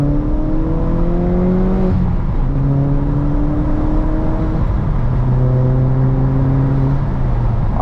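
An MK4 VW GTI 20th Anniversary Edition with a Neuspeed intake drives along, its engine droning loud and close as revs climb and fall in repeated gear pulls, the intake adding a breathy whoosh over the steady road roar.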